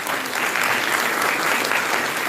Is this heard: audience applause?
yes